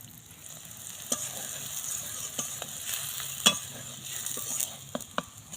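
Aloo paratha fries in a little oil in a hot kadai, giving a soft, continuous sizzle punctuated by a few sharp clinks and scrapes of a utensil. No one speaks.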